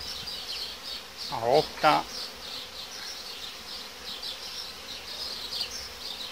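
Steady buzzing from many honeybees around a hive fills the background throughout, with a short burst of speech partway through.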